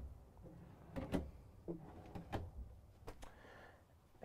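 Wardrobe drawers in the bedroom of a 2022 Renegade Explorer 38EMB RV slide and knock several times in quick succession, close and quiet, with short clunks and thumps in an otherwise still room.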